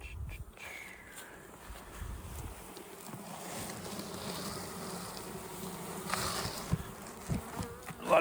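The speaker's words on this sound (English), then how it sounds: "lots of bees." Many honeybees buzz continuously close by, a dense droning hum that swells and shifts as insects fly past.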